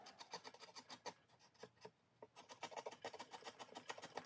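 Sharp chisel smoothing a rough spot on a wooden model logging truck trailer, quiet irregular scraping strokes with a brief pause midway.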